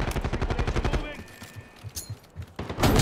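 Rapid gunfire bursts in Call of Duty 6 rattle loudly through the opening second, then scattered single shots and a closing blast follow over game noise, with no one talking.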